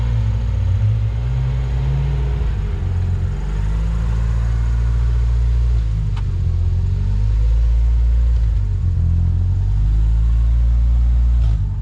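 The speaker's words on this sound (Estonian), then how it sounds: "peakski äkki auto soojaks ajama" A rally car's engine idles and revs while warming up before the start of the Libatse Rahvasprint 2024, a loud, steady, close rumble that holds throughout without a break, with no voices over it.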